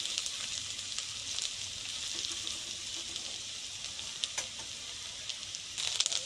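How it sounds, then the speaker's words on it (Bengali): Onion and green chilies fry in oil in a pan, giving a continuous bright sizzle with small crackles and pops, close and steady throughout, with no talking. "এবার পেঁয়াজটা লঙ্কাটা ভাজা ভাজা হয়েছে"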